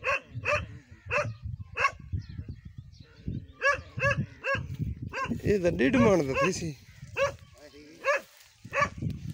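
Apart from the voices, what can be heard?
dog barking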